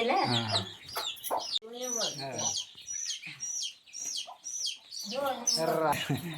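Two hens kept by an elderly woman in a Konkan shepherd hamlet cluck in a steady run of close, busy calls, with bursts of louder squawking near the start and end and a voice talking among them.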